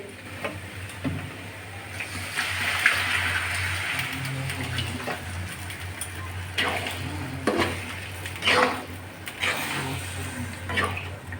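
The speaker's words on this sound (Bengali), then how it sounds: "আমি ডুমুরে ভালো করে ভেজে নিয়েছি এখন জল দিয়ে দিচ্ছি" Water is poured into a pan of figs fried with spices, giving a steady rushing hiss with sharper splashing and sizzling bursts toward the end.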